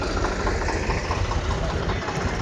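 A Swaraj 735 FE tractor, a 2019 model, idles at a tractor market in Barnala, giving a steady, continuous low engine rumble with a dense mechanical drone that stays even throughout.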